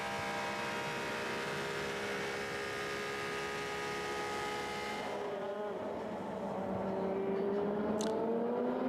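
A Porsche race car engine at the 2017 24 Hours of Le Mans drones steadily at a distance, its pitch shifting as it passes, then fades into a quieter background.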